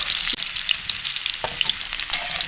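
Pickle ingredients frying in a pan, a continuous soft sizzle and spatter with faint scraping as they are stirred, close and steady with no talk.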